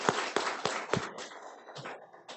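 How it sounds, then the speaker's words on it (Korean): A church congregation claps in welcome for a visitor from South Africa during a Wednesday service, a few sharp claps at first followed by looser, thinner clapping that trails off. "모두 박수 치며 환영하겠습니다"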